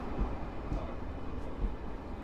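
Intercity Pilecki train from Warszawa Wschodnia pulling into Sosnowiec Główny station, a steady low rumble of wheels and rolling stock filling the platform without a break.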